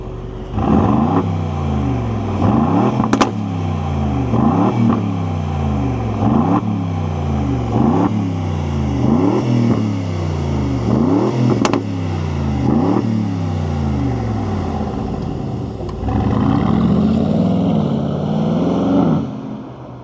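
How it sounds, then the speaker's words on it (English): A 2026 Aston Martin Vantage S Roadster engine while driving, a loud close rumbling drone rising and falling through repeated gear changes, with a stronger pull near the end. "we're gonna go for a little drive"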